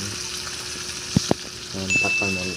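Tamban fish frying in a pan of oil, a steady broadband crackle and sizzle throughout with a couple of sharp pops midway; no talking.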